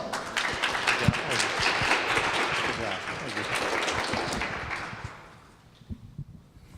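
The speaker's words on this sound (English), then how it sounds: "Give him a big round of applause." An audience at an economic forum applauds after group presentations, a loud, dense burst of clapping that holds for several seconds before fading, with a few scattered claps and a voice at the end.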